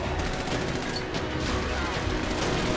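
Rapid bursts of gunfire crackle over a noisy, chaotic background in Army of Two: The Devil's Cartel, sustained for a few seconds.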